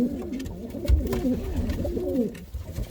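Pigeons of Rostov and Bukhara breeds coo in a coop, giving a continuous series of soft, rolling, warbling coos that overlap at close range, with a few low thumps from movement in the loft.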